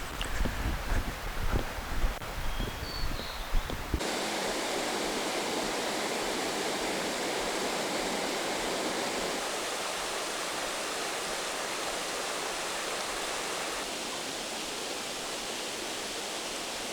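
A waterfall by the Haguro River on Mount Haguro, a loud, dense, continuous roar of falling water that holds steady throughout, preceded by a few seconds of footsteps and rustling before the roar swells up close.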